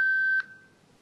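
A single steady electronic beep from a face-recognition access device, sounded as the prompt to speak a name, holds evenly for about 0.4 seconds and then cuts to a brief fading tail, with no voices.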